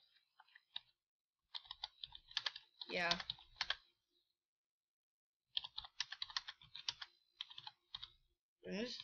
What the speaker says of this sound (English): I'm just typing, guys. I just type like a beast. I just randomly type.